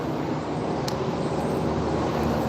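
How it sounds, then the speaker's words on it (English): A helicopter flies overhead at an outdoor work site in Washington, giving a loud, steady, broadband roar that holds without a break for the whole stretch, with no voices over it. "Helicopter, sure."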